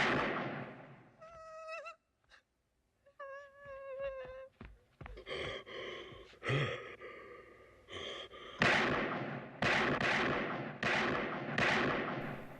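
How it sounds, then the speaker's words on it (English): Several loud gunshots ring out in a Halloween horror film scene, each a sharp blast with a long echoing tail, following tense breathing and gasps. "Loomis then fires 6 shots into Michael."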